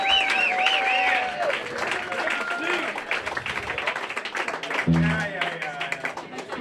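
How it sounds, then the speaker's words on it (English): A small audience at a Veterans Day community gathering claps under talk and cheering voices, with the applause thinning toward the end. "another round of applause for Steve doing the sound."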